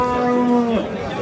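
A cow gives a single loud, close moo at the Qumtepa cattle market, with faint crowd murmur around it.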